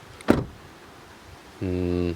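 The door of a 2022 BMW X3 M40i SUV shuts with a single solid thump near the start. After a short quiet pause, a steady electronic chime or whirring tone follows.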